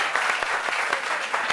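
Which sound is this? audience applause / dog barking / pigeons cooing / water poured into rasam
audience applause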